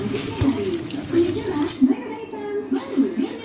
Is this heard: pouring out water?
yes